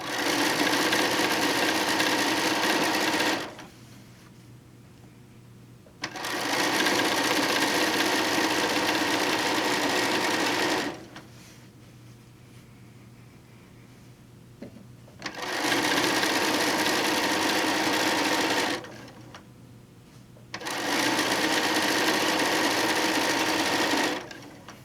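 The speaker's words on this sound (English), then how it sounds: "we're just going to sew that strip to the bottom" A sewing machine stitching a quilt strip in bursts: loud, close, steady whirring runs of several seconds each, separated by short quiet pauses, with no talking.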